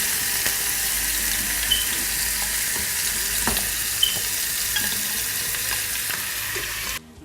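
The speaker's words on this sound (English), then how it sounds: "I'm just only stir frying it, so I don't need a lot of oil in the pot." Shrimp stir-frying in a little oil in a pot, giving a steady, continuous sizzle with faint crackles and occasional soft scraping taps as it is stirred, close up and with no talking.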